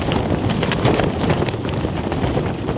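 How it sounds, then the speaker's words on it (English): Very strong wind blowing outside during a storm, a loud continuous roaring rush with gusty buffeting, no speech. "I don't know what the wind speed is out there, but it's not 30 miles an hour. This is way above that."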